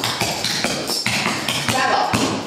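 Tap dance steps with sharp toe and heel taps, brushes and slaps striking a hard floor in a quick uneven rhythm, close and crisp, with a voice counting and calling the steps over them.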